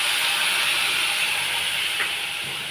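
Turmeric, cumin and salt water hitting a hot wok over prawn curry, giving a steady loud hissing sizzle that holds evenly throughout with no voices.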